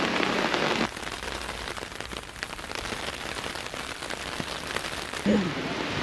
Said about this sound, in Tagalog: Saka umuulan pa yun.